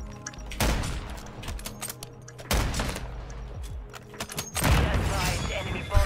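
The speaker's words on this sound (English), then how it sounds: "I threw his nade back at him" In a shooter video game, a thrown grenade bursts in heavy booming blasts, with three loud, dense explosions spaced a couple of seconds apart amid the low rumble of gunfire.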